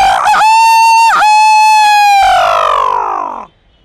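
A person's voice imitates a rooster crowing, one long loud strained cock-a-doodle-doo close to the microphone, with a couple of short breaks before a sustained tone that slides down and fades.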